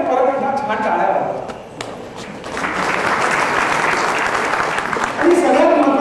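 Applause from a live concert audience, a dense crowd clapping that swells and holds steady, loud and close, with a voice speaking over it at the start and again near the end.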